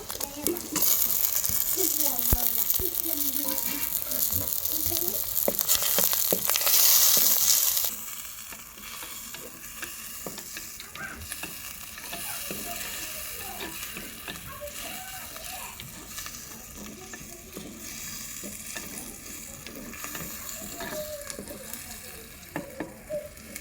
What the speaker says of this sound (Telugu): ఉల్లిగడ్డ టమోటా పచ్చిమిరపకాయలు అయితే నూనెలో బాగా మగ్గని